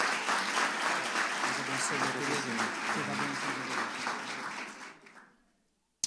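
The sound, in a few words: congregation applause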